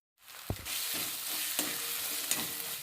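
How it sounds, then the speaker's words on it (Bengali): Ginger-garlic paste and chopped tomatoes hitting a hot pan for chicken hariyali, starting with a sharp burst and settling into a steady close sizzle punctuated by a few stirring scrapes. "আমি আদা রসুনের পেস্টটা দিয়ে দিলাম, এই টমেটো কুচিগুলো দিয়ে দিলাম"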